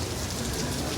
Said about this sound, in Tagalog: Nag-witness po sila sa rain dito.